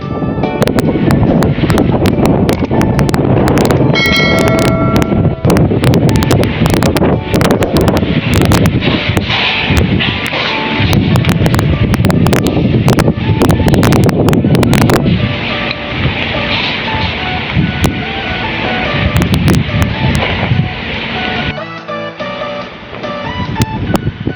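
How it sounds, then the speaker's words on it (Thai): Powerful storm wind gusting before rain at a camp in South Sudan, a loud, continuous roar with buffeting and crackling rushes throughout, easing slightly toward the end. "พายุที่ประเทศสุดานใต้นะครับ ก่อนที่ฝนจะตกนั้น ก็จะมีพายุมา แต่ละครั้งก็ แรงมากนะครับ"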